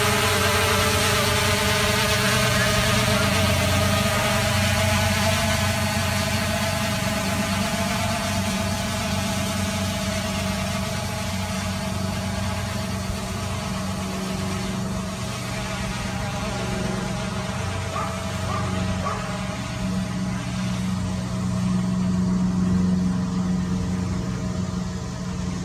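A Xiaomi Mi 4K drone climbs into the air with a continuous, even buzzing whine from its motors, holding steady and fairly loud for the whole stretch with no talking.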